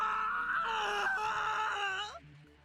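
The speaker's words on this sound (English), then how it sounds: "More screams pour from his throat." Mizuki from Dramatical Murder lets out one long, strained scream that wavers in pitch, then breaks off into a falling groan and fades out.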